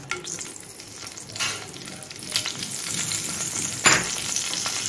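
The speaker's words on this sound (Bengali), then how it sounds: "এখন ফোড়নে দিয়ে দিচ্ছি 3টা ছোট এলাচ, 2 দারুচিনি, গোটা জিরে আর তেজপাতা।" Three small cardamom pods, two cinnamon sticks, whole cumin and bay leaves sizzle in hot oil left over from frying fish. A spoon scrapes and stirs the pan in bursts over a steady crackle.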